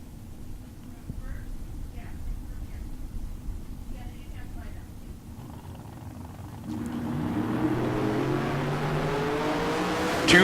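A silver and black Camaro and a Chevelle drag racing at a Tucson strip. An announcer talks over a distant rumble that swells into a rising, revving engine roar in the final seconds.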